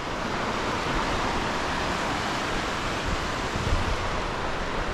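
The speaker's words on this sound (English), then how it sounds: "this is where three prongs feed into the little river." The Little River rushes in a steady, broadband roar where three prongs feed into it, loud and unbroken with no voices.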